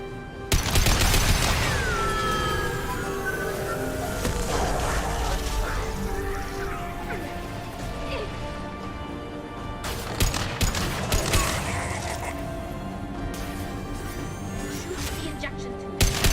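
Video game gunfire in Mass Effect 2: dense bursts of shots and impacts fill the scene, with sharp clustered volleys near the start and again around the middle and end, over a continuous layer of game music and effects.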